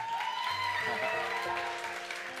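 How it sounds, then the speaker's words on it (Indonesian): A church congregation applauds, a moderate wash of clapping heard under a tonal musical backdrop with sustained notes. "Dan yang gak lupa, dari umum, tepuk tangan"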